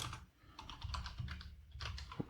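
Quiet, rapid typing on a computer keyboard while entering an Excel VBA function, a soft continuous patter of keystrokes over low background hum.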